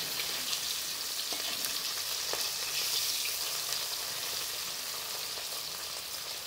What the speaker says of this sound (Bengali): মাছগুলো ভাজতে দিয়ে দিচ্ছি।